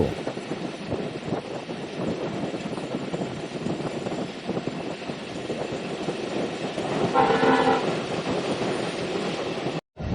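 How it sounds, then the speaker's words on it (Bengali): A non-stop special train from Khulna to Dhaka runs through Narail railway station, heard from on board as a loud continuous rumble and rattle of wheels, with a horn sounding briefly near the end. "আর অল্প সময়ের মধ্যেই আমরা Narail railway station through pass করে যাব"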